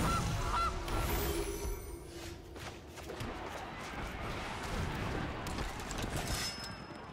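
A cartoonish goose honk from the Goose card in the MTG Arena digital card game rings out loud and close at the start, then gives way to a sustained, noisy game sound effect that fills the rest.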